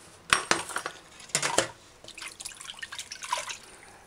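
Salted codfish is rinsed under a running kitchen tap, with splashing water, drips and a few light clinks of a dish or utensil in irregular bursts, close and moderately quiet.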